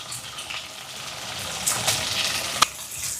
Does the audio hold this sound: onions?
yes